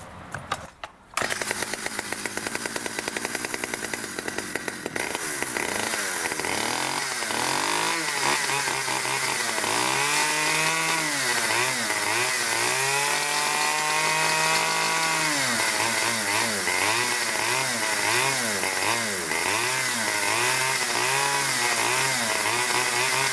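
Stihl 009 chainsaw running after a tune-up with a freshly gapped spark plug, a loud, close two-stroke buzz that revs up and down unevenly across the whole stretch, following a brief starting rattle.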